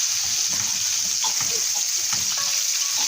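Onion sautéing in a pan until browned in a home kitchen, giving a steady, fairly loud broadband sizzle throughout with faint clatter and brief background voices.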